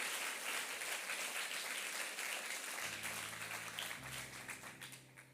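A church audience applauds in a steady wash of clapping that thins toward the end as a low tone enters underneath.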